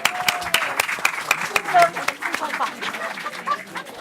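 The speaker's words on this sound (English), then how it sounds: "Let's give a round of applause for our volunteers." Scattered audience applause for volunteers at an education conference, moderate and close, with irregular sharp claps and a murmur of voices underneath.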